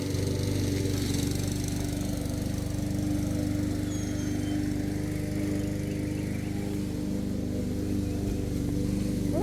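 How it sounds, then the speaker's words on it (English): A lawn mower drones steadily in the background of a home garden, a constant, moderately faint engine hum that runs unbroken throughout with no talking. "We're doing some lawn mowing, so mind the lawnmower in the background."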